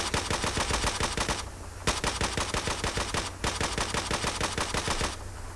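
An AN-94 assault rifle in Battlefield 4 fires in semi-automatic mode: loud, rapid, evenly spaced shots in long strings broken by two short pauses.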